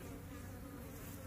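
Honeybees buzz in a thick, constant drone up close, loud and unbroken with no other sounds.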